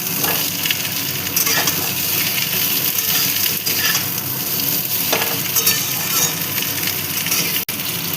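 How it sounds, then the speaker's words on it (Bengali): Cut potatoes fry in oil with pointed gourd and okra for a vegetarian curry. A loud, close sizzle runs throughout, with repeated scrapes and clinks as a spatula stirs the pan, and a sharp knock near the end. "এবার আলুটাকেও ভেজে নেব একসাথে"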